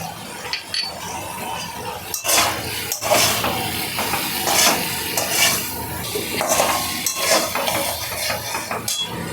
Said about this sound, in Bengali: এবার আমি কষিয়ে নেব